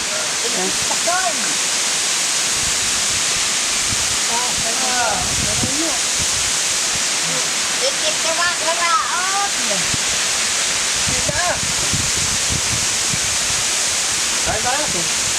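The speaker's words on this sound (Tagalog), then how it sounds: "Yan po ang Hatod Waterfalls. Ito yung pinakamataas, ano? Ito po yung pinakamataas na waterfall." Hatod Waterfalls, the tallest falls at Gallego in Camarines Sur, a loud continuous roar of cascading water, with a person talking over it and birds chirping now and then.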